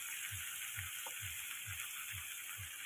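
Squeezed soya chunks frying in a pan, with a faint, continuous sizzle and soft periodic low thumps like stirring, no voices present.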